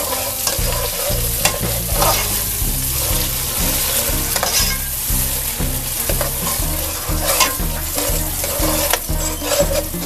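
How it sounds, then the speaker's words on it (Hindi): Onion and green chili paste frying in oil while stirred nonstop, a loud, constant sizzle with rhythmic scraping strokes for the whole stretch, no voices. "इन्हें फ्राई करना है, मुसलसल आपने इसे हिलाते रहना है।"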